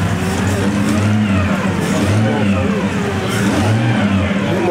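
A Bugatti four-seat cabriolet at the Molsheim festival drives past with a steady, loud mid-pitched engine drone, rising and falling slightly as it revs, close by throughout.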